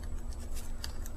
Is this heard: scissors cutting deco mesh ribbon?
yes